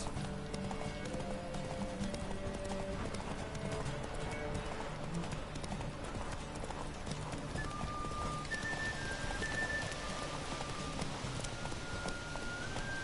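A horse gallops in The Witcher 3 with steady rhythmic hoofbeats under a continuous outdoor ambience, while faint tonal game music drifts in partway through.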